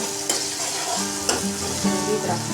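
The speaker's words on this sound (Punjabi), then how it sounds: "ਮਟਰ ਪਾ ਕੇ ਆਪਾਂ 2-3 ਮਿੰਟ ਇਹਨਾਂ ਨੂੰ ਚੰਗੀ ਤਰ੍ਹਾਂ ਭੁੰਨਾਂਗੇ" Peas roasting and being stirred in hot oil in a pan for a black chickpea curry: a steady close sizzle, broken by a few sharp scraping clacks of the spoon against the pan.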